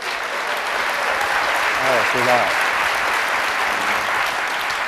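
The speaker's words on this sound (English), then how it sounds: "Clap if you have." Audience applause fills a lecture hall at an evening writers' event, steady and sustained throughout, with a voice speaking briefly over the clapping.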